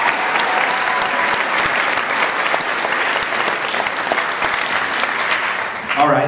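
High school graduation ceremony audience applauding, a sustained crisp wash of many hands clapping in a large venue, fading slightly before a voice begins at the end.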